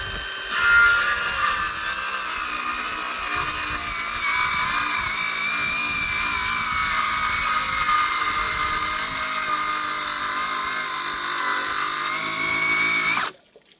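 A miter saw rips lengthwise along the grain of a 50 mm thick wooden board, giving a loud, steady, high-pitched whine that runs for about thirteen seconds without a break and then cuts off abruptly.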